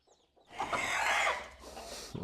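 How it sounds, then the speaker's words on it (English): Hens clucking on a homestead, a close, busy run of clucks and fowl calls rising after a quiet start and continuing in short bursts. "I've got few hens that have little baby chicks, and I've got 2 hens that are broody"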